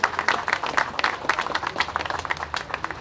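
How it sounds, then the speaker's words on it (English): Audience applause at a community financial-resilience class in St. Louis, a small group clapping unevenly in bursts, fairly close and moderately loud. "give a round of applause"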